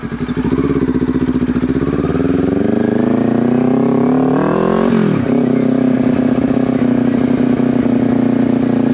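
A Kawasaki Ninja 400 motorcycle engine drones loud and close while riding, its pitch climbing steadily, then dipping sharply at a gear shift before settling into an even hum.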